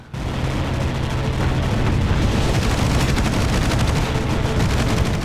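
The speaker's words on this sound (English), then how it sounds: "So I'm just gonna finish it off real quick here with a torpedo." A torpedo striking a destroyer in the naval game Battlestations Pacific, a loud sustained roar of explosion and rumbling debris that fills the whole stretch without letting up.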